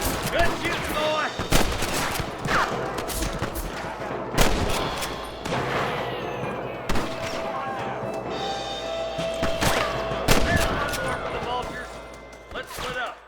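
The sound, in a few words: gunfire during shootout with rustlers, video game Red Dead Redemption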